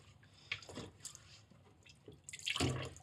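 Water runs and drips while pottery tools are rinsed at a pottery wheel setup; a few soft splashes come close and fairly quiet, with a louder gush near the end.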